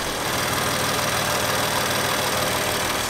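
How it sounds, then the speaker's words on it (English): A BMW M3/M4 S55 engine idling after a valve cover and PCV valve replacement, a steady, close, even mechanical rumble with no change in speed and no talking. "It's idling now."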